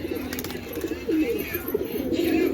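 Pigeons in a pigeon loft coo in low, throaty bursts as they gather twigs for nests, while a person talks over them nearby, with light clatter and faint background bird calls.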